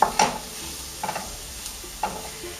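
Beef and vegetables stir-fry in hot cooking oil, a soft steady sizzle punctuated by a few sharp scrapes and clatters of the utensil as everything is tossed, close up and without talk.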